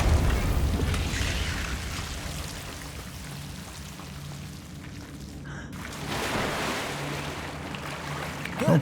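A creature plunges into water inside a cavern in Hogwarts Legacy, with a steady rushing wash of surf-like water noise and a low rumble that swells again toward the end.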